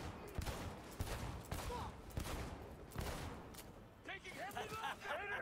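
Gunfire in the Cyberpunk 2077 video game, a run of sharp shots and bursts crackling through the clip amid busy game noise, with some voice or game chatter underneath toward the end.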